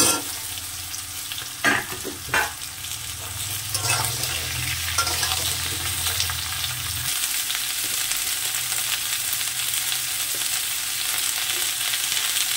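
Stalks, pumpkin and jackfruit seeds sizzle steadily in a hot pan, with a few clattering stirs early on, then continuous frying hiss with no talk.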